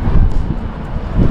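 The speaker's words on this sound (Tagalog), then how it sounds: "Pagka malakas po yung hangin, masakit po sa tenga" Strong wind batters the microphone by the sea at a fishing spot, a loud continuous low rumble and buffeting that swells and eases without a break.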